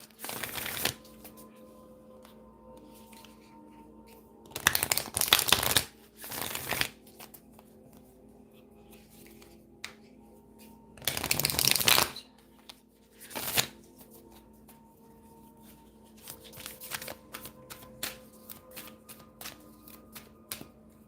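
A deck of cards is shuffled in several separate riffling bursts, close and crisp, with quiet pauses between them.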